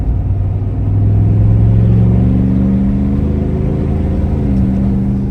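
A steady, loud engine drone with a rising tone as a 2024 Ford F-150 5.0 pickup with a Corsa Extreme cat-back exhaust revs and accelerates, deep exhaust rumble throughout with no voices.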